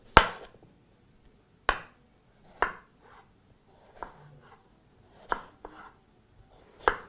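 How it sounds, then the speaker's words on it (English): A knife cuts potatoes into thin quarter-inch slices for fries, landing seven crisp, separate chops against a board at slow, uneven intervals in an otherwise quiet kitchen. "proceed to slice that into some very thin, about a 1/4 inch slices"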